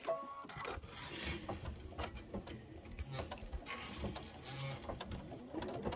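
An embroidery sewing machine stitches a background tack-down line on a quilt block, giving a continuous rapid mechanical chatter with a clicking, ticking rhythm, close and steady for several seconds.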